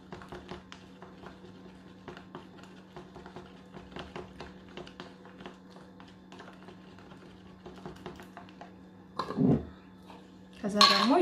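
A spoon scrapes and taps in a bowl in a quick, uneven clatter as a corn flour and milk powder mixture is stirred, with louder knocks near the end.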